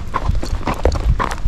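Hooves of a gaited Icelandic horse walking on a gravelly road base, a steady clip-clop of close, loud hoofbeats crunching on loose stone.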